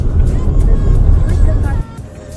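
Downtown traffic heard from inside a moving car, a continuous low road rumble and engine drone with passing vehicles, while people chat over it before the noise drops off abruptly near the end.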